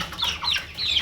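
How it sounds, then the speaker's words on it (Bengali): A quarrelsome rooster penned apart from the rest of the flock gives a few short, close clucking calls in quick succession, with no talking. "এটা অনেক ঝগড়া করে এই যে মোরগটা"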